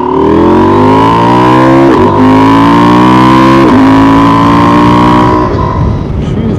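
A 2024 Husqvarna Norden 901 Expedition motorcycle engine revs hard through a power shift, a loud close rising roar broken by two quick shift dips before climbing again and easing off at the end.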